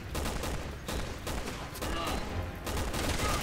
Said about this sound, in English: Seems like that dude has a sniper rifle or something.